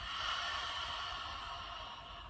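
A long, soft exhale out through the mouth during a yoga breathing exercise, breathy and steady, close to the listener and slowly fading, with no speech.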